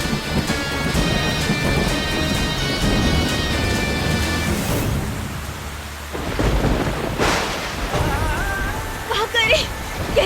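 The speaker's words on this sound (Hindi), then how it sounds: "कैसे बचे इस भयंकर बारिश और तूफान से?" Heavy rain pours steadily with rolling thunder crashing through, loud and dense, while music and faint voices sit underneath.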